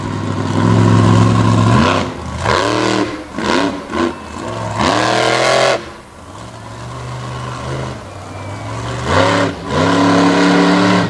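A mega truck with a Richard Midget engine in a Cohen chassis runs on the Brownstown, Indiana race track, its loud engine rising and falling in repeated revving sweeps as it works around the turns.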